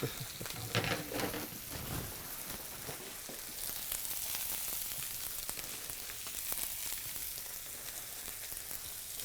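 A steak sizzles steadily in a hot frying pan, a dense, hissing crackle like light rain that swells sharply when the meat lands and then settles into a continuous moderate sizzle.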